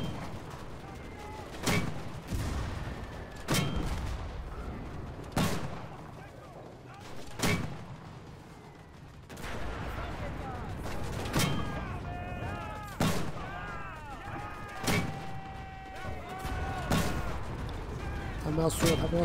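Artillery bombardment and gunfire in the Enlisted video game: repeated heavy booming explosions spaced a few seconds apart, mixed with scattered rifle and machine-gun fire, while people talk excitedly over the battle.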